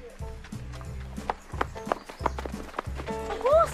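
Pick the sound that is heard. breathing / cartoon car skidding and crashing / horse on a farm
horse on a farm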